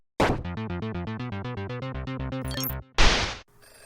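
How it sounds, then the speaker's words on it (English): An electronic telephone ringer in the video game Red Embrace: Hollywood sounds a loud, rapid, trilling burst for nearly three seconds, then a short harsh clatter, with no talk. "I picked up the phone before the third ring"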